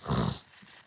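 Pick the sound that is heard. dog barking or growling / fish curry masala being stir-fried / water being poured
dog barking or growling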